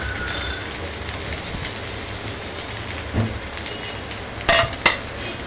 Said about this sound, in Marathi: उकडलेला मॅश केलेला बटाटा टाकतो आहे